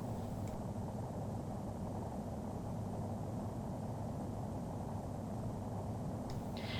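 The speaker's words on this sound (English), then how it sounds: "this is the 737-800 taking off on the same runway" A Boeing 737-800 with full payload and full fuel taking off in Microsoft Flight Simulator X, heard as a steady, dense, low engine roar that holds constant throughout with no talk.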